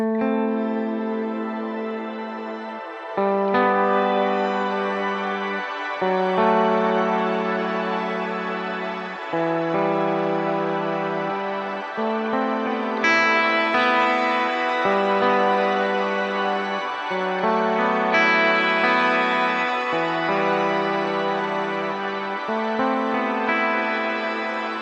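Electric guitar played through a shimmer reverb set with about 100 ms of pre-delay and a long decay, with sustained chords ringing into a bright, washing tail and swelling again at regular intervals over roughly 25 seconds, with no talking.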